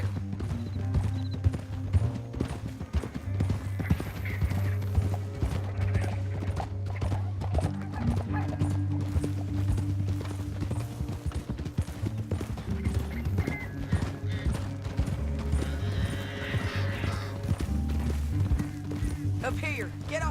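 Horses gallop with a steady clip-clop of hooves in a Red Dead Redemption 2 canyon chase, the hoofbeats running throughout over a low droning music bed, with someone talking partway through.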